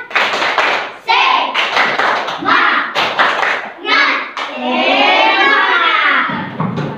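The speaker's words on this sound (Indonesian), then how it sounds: "Tepuk semangat." A standing third-grade elementary class performs the 'tepuk semangat' rhythmic clap, bursts of patterned clapping and thumps mixed with loud children's chanting voices.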